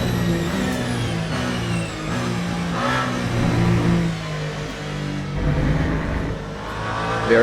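A race car engine in Le Mans Ultimate at the Mulsanne Straight's second chicane at Le Mans, revving loud and close with shifting pitch and downshift bursts as the car brakes moderately on worn, low-grip tyres.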